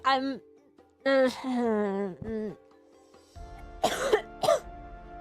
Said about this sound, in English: Sorry, my cough is getting bad.